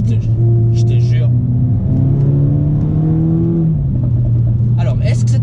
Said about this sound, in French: Et là, on va entendre le turbo